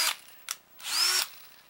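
A 12-volt rechargeable cordless hand drill whirs in short bursts, two quick blips followed by a longer run with rising pitch, close and fairly loud with no talking.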